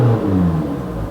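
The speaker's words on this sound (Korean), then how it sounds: "이렇게 엑셀을 밟았을 때 블로우 밸브를 따로 장착하지 않는 이상은 바람 새는 소리가 조금 나게 되고요." A used diesel SUV with a turbocharger and no blow-off valve revs briefly when the accelerator is pressed, giving a short, close, rumbling engine surge.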